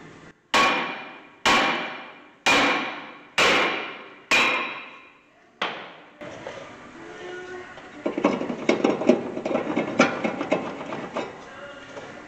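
Six loud, evenly spaced metallic hammer blows ring out against a rusty brake rotor on a 2007 Honda Accord, each decaying briefly, followed by scraping and clattering of loosened metal.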